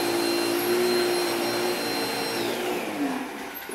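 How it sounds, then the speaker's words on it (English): A household vacuum cleaner runs steadily and loudly nearby with a constant whine and airy roar, its pitch dipping slightly near the end as a dog harasses it. "every single time I bust out the vacuum"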